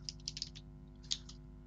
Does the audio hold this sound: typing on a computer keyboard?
yes